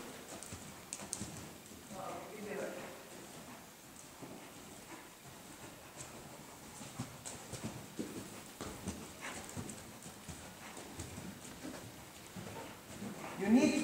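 Hoofbeats of a seven-year-old Danish mare cantering in an arena, a steady rhythmic drumming of hooves close by, while a trainer and rider talk over it.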